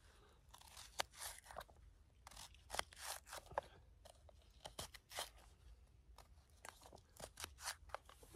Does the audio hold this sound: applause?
no